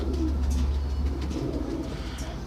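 Racing pigeons at a loft in England coo steadily and close by in a low, continuous chorus of overlapping throaty calls, with no talk.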